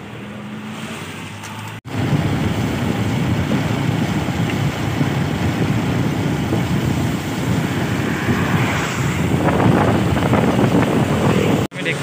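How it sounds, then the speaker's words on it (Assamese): Rain and wind during a motorbike ride at Dhekiakhowa, a loud constant roar of wind buffeting the microphone with engine and road rumble, briefly cutting out twice, no clear talk. "ঢেকীয়াখোৱা পালোহি, বৰষুণ দি আছে"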